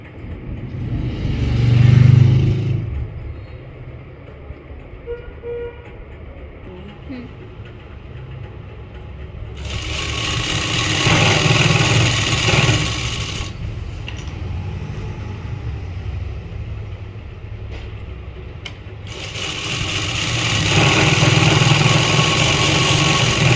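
A sewing machine stitches a salwar, its motor whirring in two sustained bursts of several seconds each, separated by quieter stretches where someone speaks.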